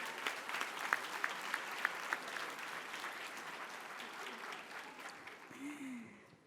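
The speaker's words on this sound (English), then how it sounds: "A round of applause for our middle college scholars." A crowd applauds graduates at a dual-enrollment college recognition ceremony with steady, dense clapping and a few sharper claps standing out, then the applause thins and fades toward the end.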